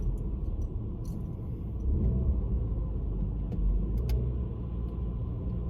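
A car is driven at high revs through floodwater around a roundabout on the Portsmouth seafront after Storm Eunice, producing a continuous, heavy, close engine rumble.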